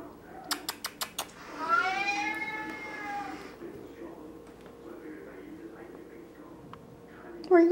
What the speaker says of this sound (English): There's a kitty in there, isn't there?